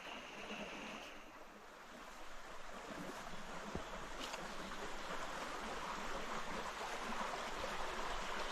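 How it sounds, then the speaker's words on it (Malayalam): A small, clear river trickles around a marudhu tree over scattered smooth stones, giving a soft, continuous rushing murmur that stays faint and even throughout, with no talking. "മരുതിന് വലം വെച്ചാണ് ഈ പുഴ ഇങ്ങനെ ചെറുതായിട്ട് ഇങ്ങോട്ട് ഒഴുകി വരുന്നത്."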